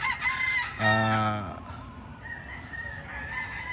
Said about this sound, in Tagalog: Video-video tayo sa mga manok ni GTP